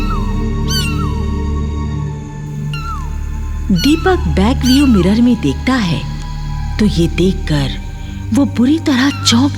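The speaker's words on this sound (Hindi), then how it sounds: "पिछली सीट से बिल्ली के रोने की आवाज आने लगती है" A cat cries with drawn-out, wavering meows, loud and close, repeating over several seconds while someone speaks over it.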